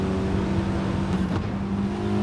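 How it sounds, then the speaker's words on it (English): Race car engine revving hard in a racing video game on the Lago Maggiore Centre II track, a steady loud drone held high through the gears, continuous and close for the whole stretch. "we are going to be revving the gears out here"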